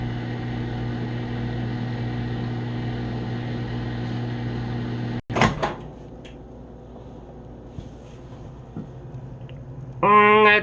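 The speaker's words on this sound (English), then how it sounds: "Put it in the microwave." A microwave oven hums in a kitchen with a steady low drone that stops abruptly with a click, followed by quieter handling and a short burst of beeps near the end.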